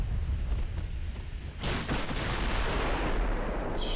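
Naval gunfire in the Ultimate Admiral 1920 German campaign: dense rumbling battle noise, then a loud heavy gun blast that rolls on into a long booming roar, with another sharp report near the end.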